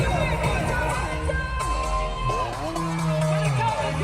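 Crowd cheering at a concert at Summer Sonic Tokyo, a dense wash of shouts and screams from a large audience, steady and loud, with music playing underneath.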